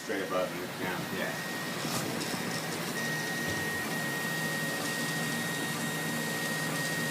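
Old MakerBot 3D printer running, a steady mechanical hum with a whining motor tone and faint stepping rattles, constant and close, with people talking over it.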